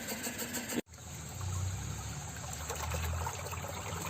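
A Selkon oil engine converted into an air compressor runs steadily while water flows from a borewell pipe, a constant low engine drone with broadband rushing water, broken by a brief dropout near the start.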